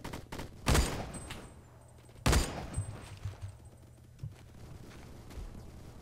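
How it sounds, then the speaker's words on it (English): Gunshots in the Roblox shooter Phantom Forces, two loud sharp bursts about a second and a half apart, then scattered fainter shots over low game background hum. "Where are they shooting?"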